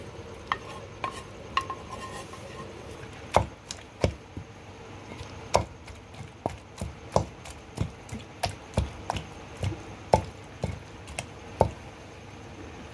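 Cooked tomato pounded in a mortar for a cucumber chutney, giving regular hard thuds about twice a second that grow louder and sharper partway through, close and alone without talk.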